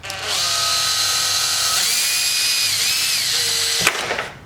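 A power drill whirs continuously at close range, its whine shifting pitch under load before cutting off, followed by a brief clunk.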